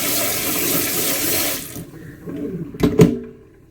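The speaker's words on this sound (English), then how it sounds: "Fresh dishwater." A kitchen sink fills with fresh dishwater from the tap, a loud close gushing rush that suddenly stops and is followed by a few clunks and splashes.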